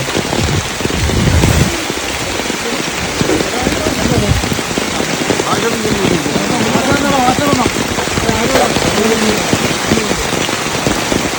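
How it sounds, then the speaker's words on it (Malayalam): Heavy rain pours down outdoors where forest officials are setting up a cage. It makes a loud, dense, continuous roar of drops hitting surfaces, with indistinct voices faintly underneath. "ഭയങ്കര മഴ എന്ന് പറഞ്ഞാൽ ഭയങ്കര മഴ കോരിച്ചൊഴിയുന്ന മഴയത്ത്"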